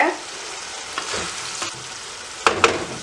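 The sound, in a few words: pork frying and being stirred in its own fat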